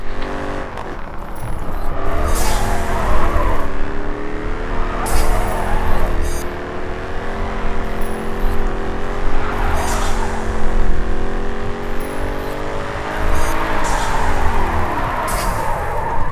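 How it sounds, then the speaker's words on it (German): A car drifts in the racing video game Grid 2, its engine droning and rising in pitch through long sustained slides, with repeated bursts of tyre screech and hiss layered over a continuous loud roar. "Denk dran, je größer der Winkel, desto größer die Punktzahl. Guter Drift."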